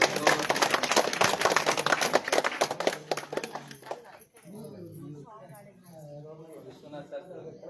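An audience at a stage event claps loudly in a dense, continuous burst of applause honoring a religious guide, lasting about four seconds and then fading. A voice then speaks over the quieter hall.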